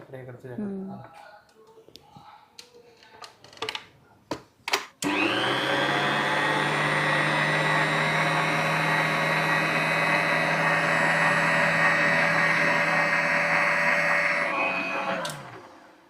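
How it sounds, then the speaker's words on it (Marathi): An Agaro stand mixer whips a powdered sugar mixture, kicking in with a loud, steady motor whine that runs evenly for about ten seconds before winding down, after a few clinks and brief talk at the start. "अगारोचा हा स्टँड मिक्सर वापरतीये"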